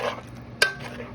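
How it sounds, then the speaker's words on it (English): A spoon stirs whole milk into a creamy cheesy steak sauce in a pan, giving soft liquid swishes and one sharp clink against the pan midway, brief and close. "we are just going to give this a good stir"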